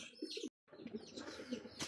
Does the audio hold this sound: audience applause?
no